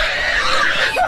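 A native boar pig squeals and grunts in a short, loud burst as it is caught with a loose rope, the cries close and continuous with no talk over them.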